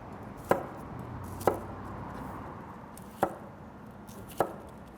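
A knife cuts Brussels sprouts in half on a cutting board, four crisp separate chops spaced about a second apart, close and fairly quiet.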